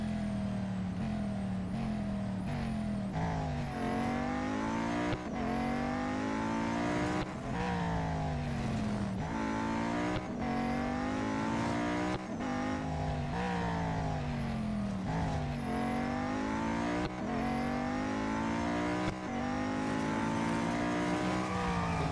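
Race cars in the Real Racing 3 video game, including a Venom F5, roar continuously at high revs, the engine pitch climbing through repeated gear shifts with brief drops between, loud and close with no voices.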